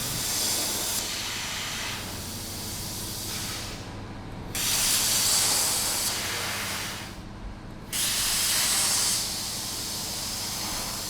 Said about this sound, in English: We want to be able to cut all the parts out with a CNC plasma cutter